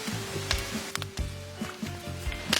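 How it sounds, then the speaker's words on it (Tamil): Wood-pressed coconut oil sizzles steadily in a hot pan, with a few soft clicks and taps from a utensil against the pan rising above the crackle. "இப்போ தேங்காய் எண்ணெய் ஊற்றிடலாம்"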